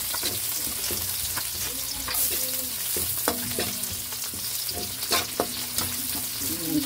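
Onions sautéing in a pan for a traditional Filipino sarsyadong matang baka dish, with a steady close frying sizzle and intermittent scraping stir strokes, nearly free of talk.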